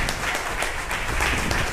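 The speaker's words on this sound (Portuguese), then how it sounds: "Aplauda o Rei" A church congregation applauds during a worship service for the anointing of workers, a dense, steady patter of clapping heard from a distance with faint voices in the background.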